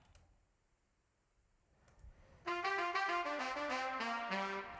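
Two layered saxophone samples in a hip-hop beat, panned hard left and right, burst in after some faint clicking and play a dense, bright melodic line of sustained notes, loud and continuous with no voices.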